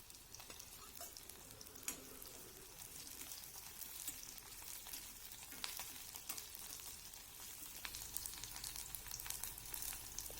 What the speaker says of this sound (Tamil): இப்போ இஞ்சி பூண்டு வரமிளகாய் சேர்த்து நல்லா வணக்கி விட்டுருங்க